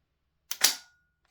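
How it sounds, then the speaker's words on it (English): The bolt of a Lambda Defence GHM9-G airsoft gun drops, giving a sharp metallic double clack that is close and loud and decays quickly into silence. "It's that delay when you drop the bolt."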